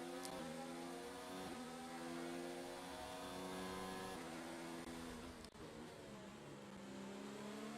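F1 2019 race cars in a Monaco league race, engines droning steadily and close together as they sweep through the last corner, a sustained whine with a brief dip midway.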